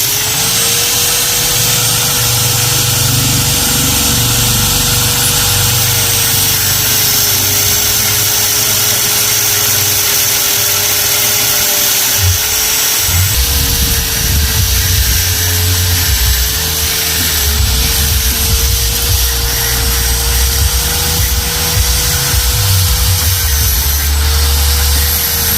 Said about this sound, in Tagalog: Grinder gaming lang tayo.